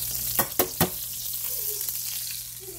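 Onions tossed into a hot pan at a steak dinner, a few quick thumps and scrapes as they land, followed by a steady loud sizzle.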